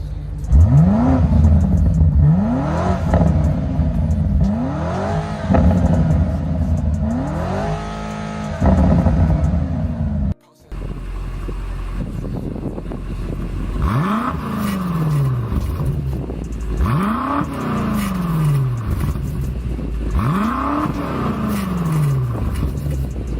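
Engines of a 2024 BMW M5 hybrid and the earlier F90 M5 rev hard in turn, each a loud, close rising roar that drops back, repeated several times, with a brief cut between the two cars.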